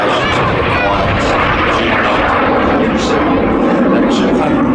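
A BAC Jet Provost jet trainer roars loudly and steadily at an air show, its broad engine noise filling the whole stretch with a slight rise toward the end.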